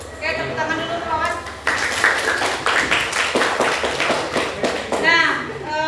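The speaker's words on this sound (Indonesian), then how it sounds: "Oke, tepuk tangan dulu Wawan." A school class claps for a student named Wawan, a burst of brisk children's clapping that starts suddenly and carries on for a few seconds, with a teacher's voice before it and kids' voices near the end.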